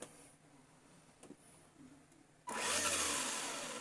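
A Tamiya TT01 RC car, fitted with a 55T spur gear and a 25T motor pinion, sits quietly through a few light clicks before its motor and gears suddenly spin up into a loud, steady, close whir.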